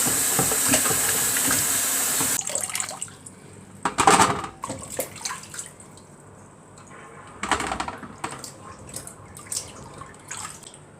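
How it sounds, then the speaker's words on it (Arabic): Tap water rinses peeled onions in a bowl under the faucet, a hissing splashing stream at first that gives way to intermittent dripping, sloshing and handling noises close by, with no talking. "لازم بقى نغسله تاني. ننزلي تحت الحنفيه كده في بوله."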